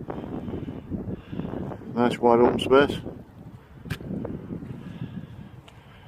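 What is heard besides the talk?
strong wind on moorland hilltop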